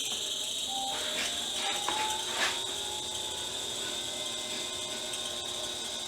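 Small DC motor of a Stripmeister wire stripper runs at a steady pitch, with a continuous whirring drone and a few faint mechanical ticks.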